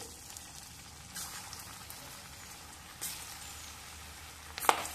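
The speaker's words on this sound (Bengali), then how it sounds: "এবার তেল গরম করে নিয়ে কোপ্তাগুলো একটা একটা দিয়ে দেবো।" Jackfruit koftas fry in hot oil in a kadai, a soft continuous sizzle with a few brief louder crackles and bursts as pieces go in.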